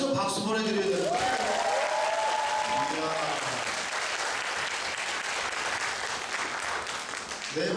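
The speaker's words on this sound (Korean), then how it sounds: "여기서 박수 보내드려야 되는 거야." Audience at a talk concert applauding a professor, dense sustained clapping filling the room, with a voice speaking over the start before the applause carries on alone, gradually thinning toward the end.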